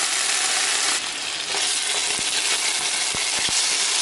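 Frozen épice seasoning hitting a hot pan gives a loud, steady broadband sizzle throughout, close up, with a few short clinks of utensils against the pan near the end; no talking.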